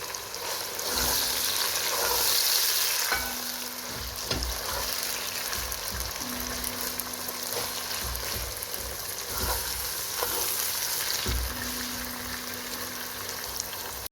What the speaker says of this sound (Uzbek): Go'shtimiz bilan piyozimizni o'tda qizartirib olamiz